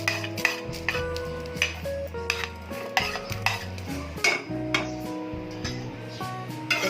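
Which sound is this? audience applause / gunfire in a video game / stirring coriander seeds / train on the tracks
stirring coriander seeds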